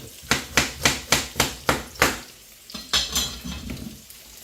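Ingredients for Uzbek plov stirred in a metal cooking pot, a run of about eight rhythmic metallic scrapes and knocks, then a few looser clanks over a faint sizzle.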